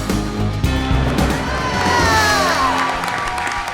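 Large festive crowd at the LA Fleet Week Galley Wars event cheering and whooping loudly, with shouts and a high whistle rising over the roar for a few seconds.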